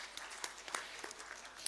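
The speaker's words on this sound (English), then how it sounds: "May I request a big round of applause for our panelists" A seminar audience applauds panelists after a panel discussion, with faint, sparse clapping under a quiet, steady room hiss. The claps come as scattered individual hits rather than a dense burst.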